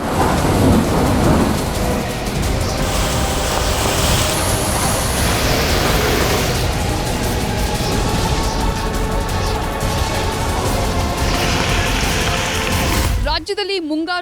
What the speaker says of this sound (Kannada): ರಾಜ್ಯದಲ್ಲಿ ಮುಂಗಾರು ಮಳೆ ಆರ್ಭಟ ಮುಂದುವರೆದಿದೆ